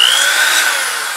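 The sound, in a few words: drill bit run through a rivet hole in a steel helmet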